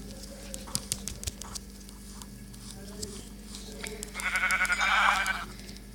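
Sheep bleat in a video game, with one wavering bleat rising clearly near the end over a quiet backdrop of soft game sounds and faint background talk.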